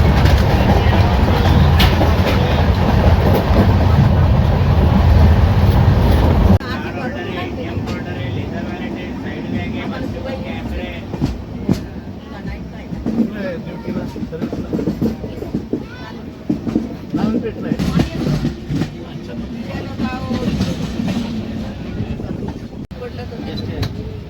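The Nanded to Pune Express rolls along its route with a loud, steady rumble that drops abruptly to a quieter interior running noise, punctuated by intermittent clacks and knocks of the railcars.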